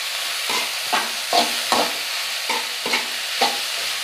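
Chopped banana flower frying in oil with onion and green chilli, stirred in a pan: a soft continuous sizzle punctuated by about eight regular scraping strokes of the spoon, close and clear.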